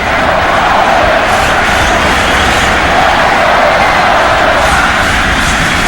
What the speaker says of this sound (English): Crowd tries to get back in it after their spirits were dampened by the rain